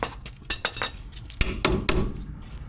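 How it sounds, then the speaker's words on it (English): Staking an axle nut on an Alfa Romeo Stelvio or Giulia front wheel hub: a close series of sharp metallic hammer-and-punch strikes, irregular and ringing, about a dozen hits over a few seconds, with no talking. "Don't forget to stake the axle nut in both locations."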